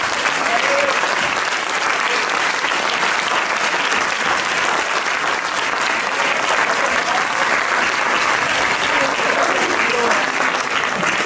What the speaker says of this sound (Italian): Se volete fare un applauso a questi ragazzi qua che sono fantastici.